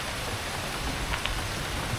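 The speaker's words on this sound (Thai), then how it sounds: "ฝนก็ลงเรื่อยๆเลย หวังว่า ไม่ตกหนักไปมากกว่านี้นะครับ" Rain falls steadily on a campsite beside a canal, a constant, even hiss of drops on surfaces with a few slightly louder patters, with no one talking.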